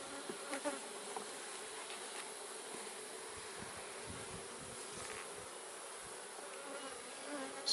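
Honey bees carrying pollen buzz around an open hive as a faint, steady drone, with individual insects passing closer now and then amid soft handling noises.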